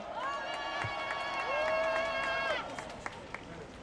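A crowd at an outdoor political rally in Suncheon cheers and shouts, with sustained hollering tones rising over a broad roar and a few sharp knocks.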